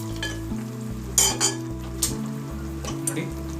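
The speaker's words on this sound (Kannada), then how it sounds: "ಡ್ರೈ ಫ್ರೂಟ್ಸು ಹಾಕ್ಕೊಂಡು ಚೆನ್ನಾಗಿ ಉಟ್ಕೊಳ್ಳಿ" Cashews, pistachios and other dry fruits fry in hot ghee with a soft continuous sizzle, punctuated by a few sharp clinks and scrapes of a spoon stirring the pan.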